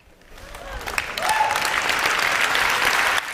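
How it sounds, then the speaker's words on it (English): An audience breaks into applause that builds quickly into a dense, steady wash of clapping, heard up close with a few voices mixed in. "Look at, they're all applauding."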